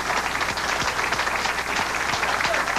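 A bowling crowd applauds strikes and high scores at a 1992 women's professional bowling tournament, steady dense clapping filling the whole stretch with a faint voice underneath.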